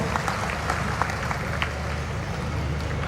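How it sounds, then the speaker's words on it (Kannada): Steady applause from a crowd at a religious gathering, a dense crackle of clapping that carries on evenly throughout. "ನಿಮ್ಮ ಒಂದು ಪ್ರೀತಿಯ ಚಪ್ಪಾಳೆ ಬರಲಿ"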